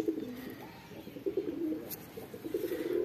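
A female pigeon coos close by in soft, repeated low throaty calls with a faint rolling rhythm over a quiet background.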